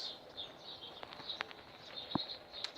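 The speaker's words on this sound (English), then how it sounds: "as you listen to the spring birds making the sounds" Spring birds chirp and call faintly in the background, scattered high tweets repeating across a quiet room with no one talking.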